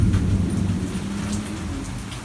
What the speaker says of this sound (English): But look at that downpour.